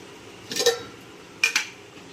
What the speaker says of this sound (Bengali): এবার আমি ঢাকা দিয়ে কষাতে থাকবো